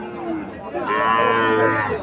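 A tall, very black calf at a cattle market in Cumilla lets out a single close, drawn-out moo amid faint market background.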